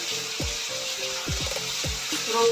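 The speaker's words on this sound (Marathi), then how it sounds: "आता आपण त्याच्यामध्ये आलं लसूण पेस्ट टाकूया" Ginger garlic paste sautés in oil over lightly browned onion for palak chicken, giving a steady low hiss of sizzling with a few brief tonal chirps on top, quiet and unaccompanied by speech.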